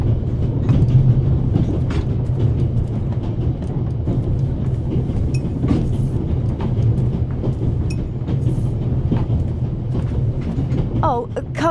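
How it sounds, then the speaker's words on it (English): A video game train runs at full speed, giving a continuous loud rumble with clattering, rattling wagon noise throughout and a brief high squeal near the end. "It will be suicidal to climb up there while the train is at full speed."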